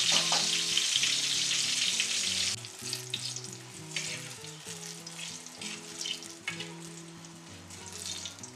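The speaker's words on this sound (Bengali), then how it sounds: "বেগুনটা ভাজা হোক।" Eggplant fries in a pan, likely in ghee, with a bright, continuous sizzle that is loud at first and then softer and intermittent, under steady background music.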